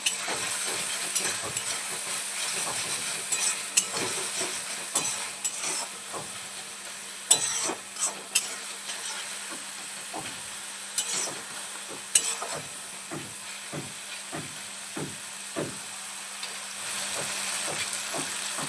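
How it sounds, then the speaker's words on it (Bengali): Spiced masala cooked in ghee with a little ginger for a capsicum paneer curry, stirred steadily in the pan: a constant sizzling hiss broken by repeated scraping strokes of the spoon, close and moderately loud, with no voices. "মশলাটা খুব ভালোভাবে কষিয়ে নেওয়া হয়ে গেছে, দেখতেই পাচ্ছেন।"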